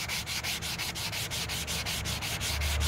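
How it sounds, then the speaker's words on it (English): Steady back-and-forth hand sanding of a skim coat on a wall, a dry rhythmic scraping of about six strokes per second, close and continuous with no talking. "I continue sanding."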